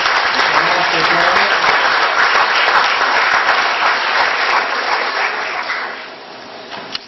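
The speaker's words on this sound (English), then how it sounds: "How about a nice round of applause for the fourth grade?" A school board meeting audience gives a loud, sustained round of applause for fourth grade students, dense clapping that holds steady for several seconds before tapering off toward the end.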